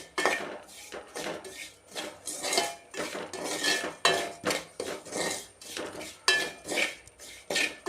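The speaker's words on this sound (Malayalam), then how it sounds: "മുളക് പൊടിയും ചേർത്ത് ഇളക്കി കൊടുക്കാം" Stirring chili powder into roasted grated coconut in a pan for a yam theeyal, with steady repeated scraping and clinking of a spoon against the pan, close and alone.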